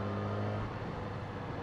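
Engine of a 2016 Yamaha R6 sport motorcycle during a double-clutch shift, a steady high-pitched engine note that drops slightly partway through, heard fairly faint and with no voices.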